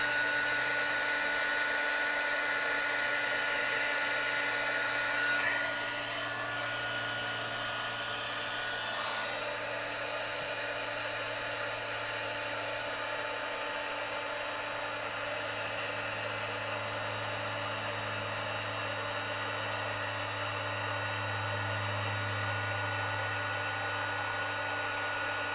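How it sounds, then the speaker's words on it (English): A heat gun blows steadily for heat embossing a birthday card, a constant whirring hum with a slight shift in tone early on, moderately loud and uninterrupted, with no talking. "So that's all our heat embossing done."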